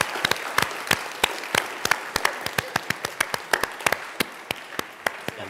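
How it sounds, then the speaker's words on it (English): An audience applauds at a vacation Bible school closing, many hands clapping in a loud, brisk, continuous patter with sharp individual claps standing out throughout. "So let's give Karen a big round of applause, boys."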